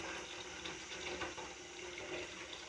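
Running, splashing hot water, about a gallon carried out to rinse a milking machine during morning goat chores, with a steady, close wash that continues throughout and no talking.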